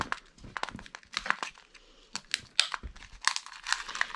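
Crinkly plastic packaging of paper fasteners being handled and pulled at, a busy series of rustles, crackles and small tearing sounds close up, with no talk.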